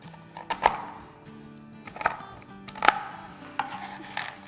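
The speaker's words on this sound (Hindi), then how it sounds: "बादाम भी ले लेंगे। बस थोड़ी सी इसको भी चॉप कर देंगे।" A knife chops almonds and other nuts on a board, several sharp knocks at an uneven pace, close and fairly loud with a faint background hum.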